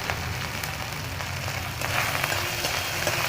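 Freshly grated ginger fries in a pan for a Bengali bottle gourd and milk dish, giving a steady, even sizzle with faint crackles and no voices.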